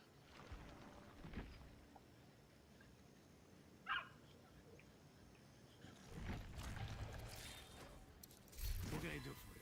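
A small dog in a video game gives a brief yip and soft whimpering among quiet game ambience, with heavier rustling bursts later on.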